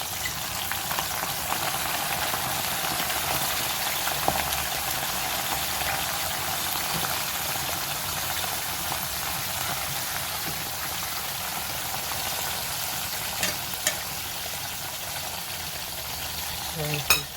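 Flattened plantain slices fry after a second dip in hot oil, giving a steady, close, even sizzle with faint crackles that continues without a break and no voices.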